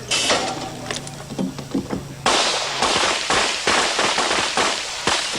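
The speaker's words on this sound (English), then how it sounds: "You can see he's shooting a semi-auto pistol and looks like it's working to me." Semi-automatic pistol fire at a barricade shooting event on a training range, with sharp reports coming in quick succession and a denser burst of shots partway through, some nearer and some more distant, over busy outdoor background noise.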